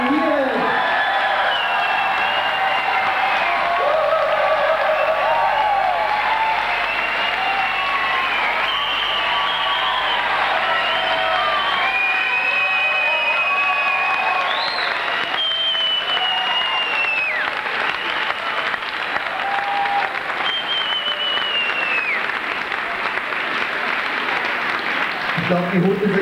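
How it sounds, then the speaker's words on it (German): Sustained audience applause with cheering and whistles fills a club venue after the Jacob Sisters are introduced, loud and continuous for the whole stretch, with crowd voices mixed in. "Ich bitte um einen ganz, ganz großen Applaus für die wirklich nicht unbekannten Jakob-Sisters inklusive ihren Mädels."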